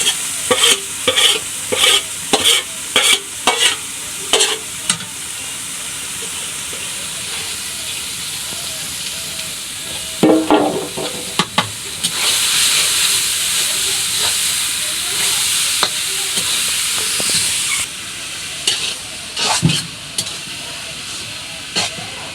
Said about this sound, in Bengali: শুকনো মানে সুন্দর করে তেলে ভাইজে নিয়ে তারপর হচ্ছে শাক দিয়ে দিতেছি